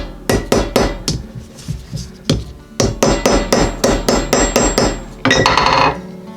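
Sharp, ringing metal hammer blows driving down the rivet edges on a leather axe sheath, a steady close series of about a dozen strikes ending in a brief rasping scrape.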